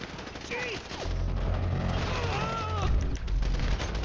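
Sustained gunfire and explosions during a GTA 5 shootout escape, a dense continuous barrage of loud shots with low booming rumble, mixed with game character voices shouting.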